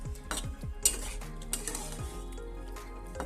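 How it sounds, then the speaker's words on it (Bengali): Metal spoon scraping and clinking against a pan while stirring duck egg curry with chopped coriander, several quick rhythmic scrapes over a faint sizzle, close and fairly quiet. "ধনেপাতা কুচিটা দিয়ে আমি নাড়াচাড়া করে নিচ্ছি"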